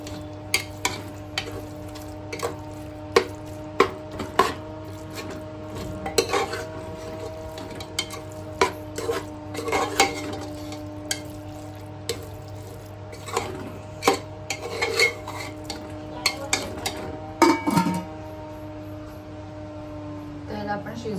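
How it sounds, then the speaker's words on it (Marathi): Mutton mince with masala being stirred in a pot, irregular scrapes and clinks of a spoon against metal repeating throughout over a low steady hum, with a person talking at times. "खीमा टाकलेली व्यवस्थित आता मिक्स करून घ्यायचं"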